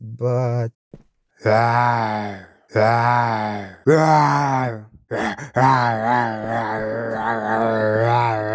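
A voice imitates zombie groans, producing long, drawn-out guttural moans in several loud bursts with short pauses between them.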